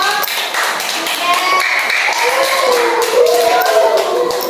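Classroom applause for a student group, a steady burst of many hands clapping close by for several seconds, with voices mixed in.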